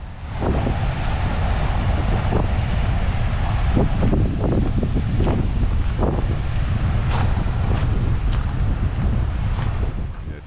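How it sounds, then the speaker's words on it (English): Gusty coastal wind buffets the microphone at Papakōlea Green Sand Beach with a loud, continuous roar, and surf crashes faintly against the rocks beneath it. "It's quite windy."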